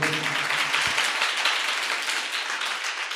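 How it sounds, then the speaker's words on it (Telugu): A church congregation claps together loudly as a dense, steady patter of applause that fills the whole moment, with a brief voice at the start. "చప్పట్లు కొట్టండి గట్టిగా"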